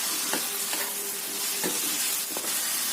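Food sizzles steadily in a hot pan while a utensil scrapes and stirs in a few distinct strokes, close by and with no talking.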